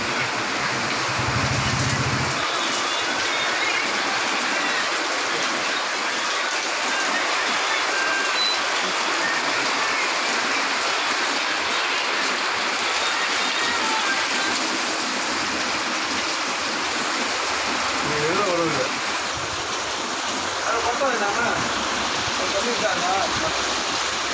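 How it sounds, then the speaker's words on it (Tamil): Steady heavy rain with wind roars without a break in Mayiladuthurai, India, a dense wash of water noise, with a faint voice underneath at moments. "காற்றுடன் கனமழை பொழிகின்றது"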